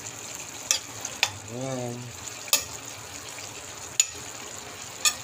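Pork cubes fry in a pan with a soft, steady sizzle, punctuated by several sharp clinks and scrapes of a utensil, while a person speaks briefly.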